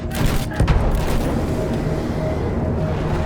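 Dense battlefield gunfire from Battlefield 1 in a World War I trench assault, with a machine gun and explosions. The din is loud and continuous, with heavier bursts and booms in the first second.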